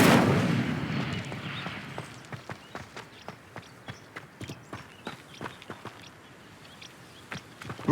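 Incendio fire spell cast in the video game Hogwarts Legacy, a whooshing burst of flame at first, then a long run of sharp crackling pops and snaps that gradually thins out.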